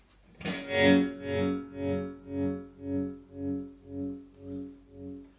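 A distorted electric guitar chord rings out through a Roger Mayer Voodoo Vibe pedal set to an angled sine wave, its pulsing, swirling modulation rising and falling in a regular rhythm about nine times as it decays.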